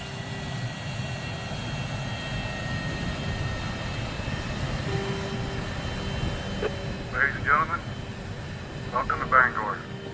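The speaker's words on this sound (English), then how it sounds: "Routine landing. Nothing to it." An airplane landing in The Langoliers horror movie, heard as a steady broad engine rumble and hum throughout, with a couple of short bright bursts near the end and speech-like sounds within the mix.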